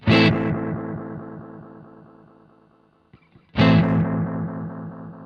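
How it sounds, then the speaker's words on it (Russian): Two loud distorted guitar chords through an analog delay pedal, each followed by trailing delay repeats that fade gradually, with a few quiet plucks between them. "и аналоговый дилей"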